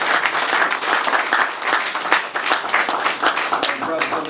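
Crowd applause at a New Orleans gathering, dense continuous clapping from many hands that holds loud and steady throughout.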